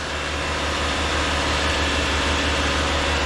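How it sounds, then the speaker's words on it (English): A GWM Cannon X ute sits parked and revs steadily during a manual exhaust burn, giving a constant, dense engine drone that holds at one level throughout without voices. "So then we just leave the Canon X out here, revving its balls off."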